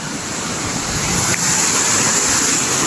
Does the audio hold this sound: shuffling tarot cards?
no